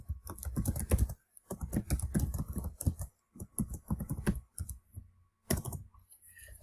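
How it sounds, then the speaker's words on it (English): Rapid bursts of computer keyboard typing while data from a table is entered into Excel spreadsheet cells, close and fairly loud, with brief pauses between runs of keystrokes. "we're going to just start typing in the information from the table into the cells."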